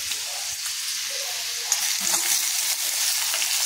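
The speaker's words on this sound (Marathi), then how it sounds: "तर आता आपण कांदा घालून घेऊया." Onion frying in a pan with fenugreek seeds, a steady close sizzle holding throughout with faint stirring movement underneath.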